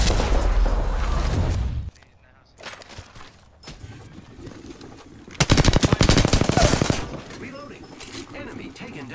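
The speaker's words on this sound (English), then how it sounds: "The enemies are shooting at me." Enemy machine-gun fire in a shooter video game: a loud sustained burst, a quieter stretch of scattered shots, then another heavy rapid volley, with speech in the mix.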